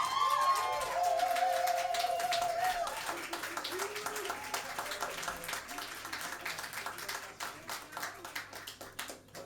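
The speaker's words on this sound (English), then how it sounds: "I just want everyone to give a massive, loving round of applause for the wonderful Léoni!" An audience at a live improvised jazz and spoken word show in London claps and cheers loudly, the applause gradually thinning and fading over several seconds.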